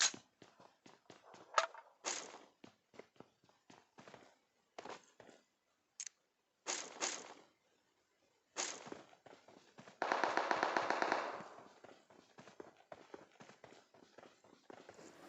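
Gunfire and footsteps in a PUBG Mobile solo-versus-squad match: scattered sharp shots and quick steps, then a dense, loud burst of rapid fire midway, with quieter clicks and steps around it.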